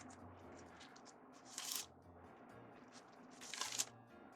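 Plastic deco mesh strips for a candy corn Halloween wreath being folded and pinched together, giving two short crinkly rustling bursts close by over a quiet room.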